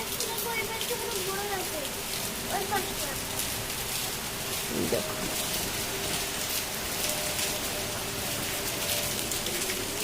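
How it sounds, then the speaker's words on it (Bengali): Steady rain falls on a garden, a constant broadband hiss of drops spattering surfaces close by, with a person speaking briefly over it. "দেখো কেমন বৃষ্টি হচ্ছে, হয়েই যাচ্ছে"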